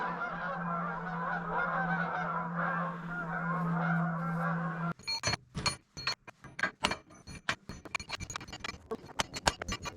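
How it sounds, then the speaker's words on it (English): Many geese honk in a loud, continuous chorus, then give way to sharp irregular clinks and knocks from work on track adjuster springs. "The geese are applauding."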